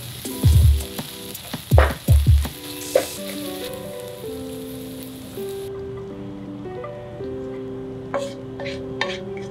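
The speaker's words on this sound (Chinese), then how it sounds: "最后把主角打抛叶放进去，大火炒一下就可以熄火了。" Chicken with holy basil leaves for Thai pad kra pao is stir-fried over high heat, producing a few loud, close bursts of sizzling and tossing at the start. The cooking then fades under steady melodic music.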